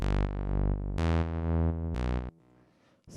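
House bass line played from a MIDI clip: a deep, tonal synth bass in three sustained notes of about a second each, loud and close, with the last cutting off into near silence. No voices.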